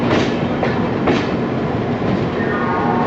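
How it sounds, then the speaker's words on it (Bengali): The Purba Express pulling out of Howrah station, a continuous close rumble of rolling rail wagons with faint clicking of wheels over joints, steady and loud without voices. "পূর্বা এক্সপ্রেস হাওড়া স্টেশন ছাড়লো।"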